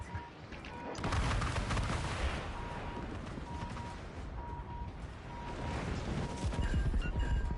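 Secondary guns on a warship fire in World of Warships Legends, a rolling barrage of booming, overlapping artillery shots that stays loud and continuous, swelling again near the end.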